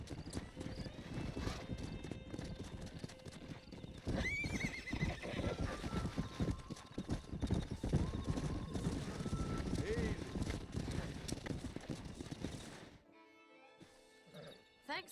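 Horse hooves clip-clopping and a horse whinnying in the Western video game Red Dead Redemption, steady close hoofbeats with a neigh over wind and game ambience, ending in near quiet.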